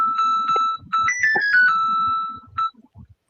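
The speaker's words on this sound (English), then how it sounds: "Sounds like an old Nokia ringtone." A ringtone resembling an old Nokia phone plays a bright, electronic melody of beeping tones, loud and up close, ending in a few short notes with faint low murmurs underneath.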